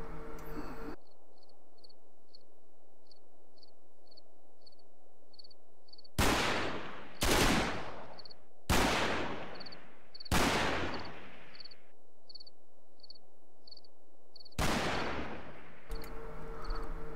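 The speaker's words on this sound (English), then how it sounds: "are these firing off in the direction of where that heavy machine gun was?" Machine gun fire rings out in the Combat Mission Market Garden war game: several loud, sharp bursts with ringing decays, spaced a second or two apart over a steady backdrop of chirping insects.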